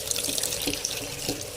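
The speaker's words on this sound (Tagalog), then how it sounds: "Hugasan na siya guys." Water runs steadily from a sink tap while vegetables such as jute leaves, eggplant and string beans are washed, a continuous close hiss of flowing water with faint splashes.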